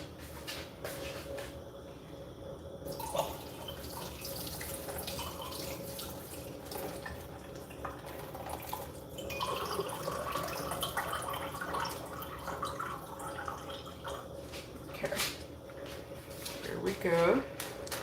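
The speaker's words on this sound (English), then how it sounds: "now I'm going to take and rinse these beans off" Dried beans rinsed under a running kitchen faucet, a steady stream of water splashing and dripping for the whole stretch, with a few clinks near the end and a voice talking quietly in the background.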